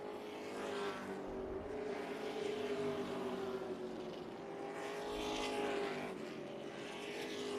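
Race trucks circling the track at Tucson Speedway, a steady engine drone with rising and falling pitch as the trucks pass, moderately distant and continuous.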